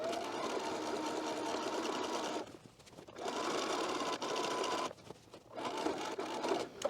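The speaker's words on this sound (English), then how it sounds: "it's okay if the machine is only stitching through the seam allowance" A sewing machine runs fast through a skirt seam allowance in bursts, stitching for a couple of seconds, pausing briefly, then resuming; quiet, close, and without voices.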